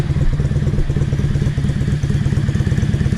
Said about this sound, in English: it's not struggling, so the idle's sort of roughly okay.